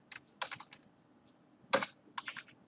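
Quick bursts of keystrokes on a computer keyboard as code is typed, two short clusters of clicks separated by a pause, close and fairly quiet.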